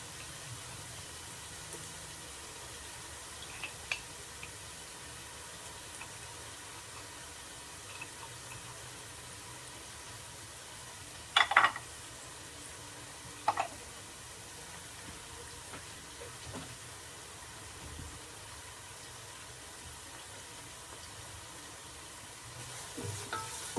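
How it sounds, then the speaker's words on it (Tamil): Cinnamon, cloves and whole spices frying in ghee for chicken biryani: a faint, low sizzle throughout, with a few sharp clinks or scrapes against the pot now and then, no talking. "வந்து நல்லா ஃப்ரை பண்ணணும்."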